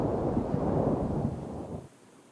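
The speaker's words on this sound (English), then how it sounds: "The evening brings the unmistakable sound of thunder rolling over the hills." Thunder rolls over hills in Jurassic World Evolution 2, a broad deep rumble that swells and holds for nearly two seconds before fading into quiet, with no voices.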